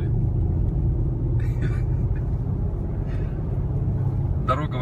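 A car climbing a mountain road toward an observatory in Arkhyz, Karachay-Cherkessia, with a steady low engine and road rumble heard from inside the cabin and faint voices speaking briefly over it.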